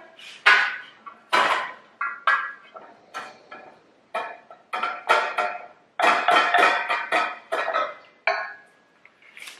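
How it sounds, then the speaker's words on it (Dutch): Utensil scraping and clinking against a pot while melting chocolate is stirred, in irregular loud bursts of scraping strokes with brief pauses, no talking. "Nou, lekker roeren."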